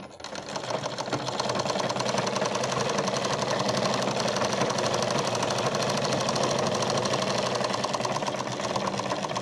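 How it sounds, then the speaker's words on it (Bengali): A sewing machine stitches a blouse, running as a steady, close, continuous rapid whirring clatter for the whole stretch with no talking. "এইভাবে সেলাই করছি, দুটো চাপ সেলাই দিচ্ছি"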